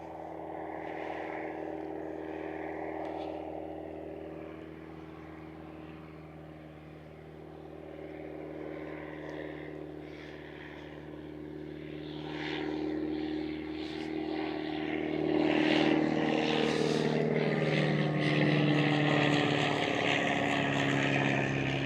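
A light aircraft near Roupy aerodrome drones overhead, with a steady engine hum that slowly swells in loudness as it approaches and passes, heard outdoors at a distance without speech.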